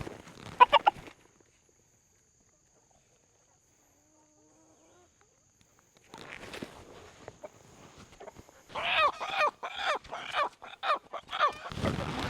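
A rooster calls near the start, then after a quiet stretch chickens cluck and squawk in a dense, close series of calls, on a farm with pigs.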